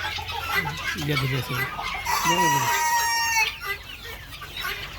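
Native hens clucking close by, a series of short throaty calls with a drawn-out squawk, over a busy background of other birds.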